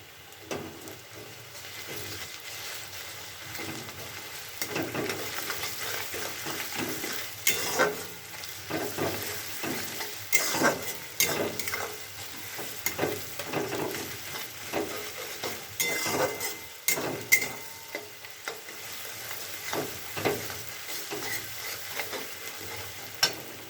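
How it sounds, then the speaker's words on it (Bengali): Onions frying in a pan while being stirred, a continuous crackling sizzle with rhythmic spatula scrapes and stirring bursts rising and falling for over twenty seconds. "পেঁয়াজটা একটু ভাজা হয়ে নেই, একে একে দিয়ে দেবো"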